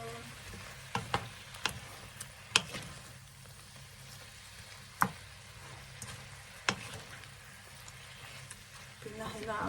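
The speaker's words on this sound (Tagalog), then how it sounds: "Haluin ulit natin." Garlic shrimp fry in a pan with a soft, steady sizzle, broken by sharp clinks and taps as a utensil stirs and scrapes against the pan.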